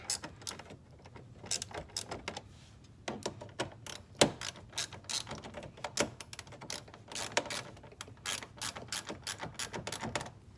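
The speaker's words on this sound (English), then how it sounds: "get them a nice torque down with the wrench" A ratchet wrench tightens screws on a Dodge Charger bumper, giving rapid, close metallic clicking in uneven bursts with short pauses between strokes.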